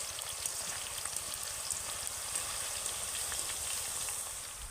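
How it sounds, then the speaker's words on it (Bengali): Raw potato slices frying in hot oil over medium heat give a steady, dense crackling sizzle that runs unbroken throughout, with no voices. "প্রথমে তেলটাকে ভালো করে গরম করে নেবেন, তারপর একটু মাঝারি আঁচে চিপসগুলোকে ভেজে নেবেন।"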